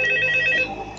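A telephone rings with a steady electronic warble that is loud and close. It plays alone for about half a second and then fades.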